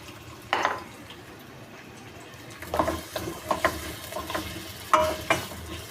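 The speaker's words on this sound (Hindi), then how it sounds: "अब इसमें प्याज डाल देंगे और प्याज को फ्राई कर लेंगे।" Onions fry in oil in a pan for chicken pulao, giving a soft sizzle under scattered clanks and scrapes of a utensil stirring, close up and without talk.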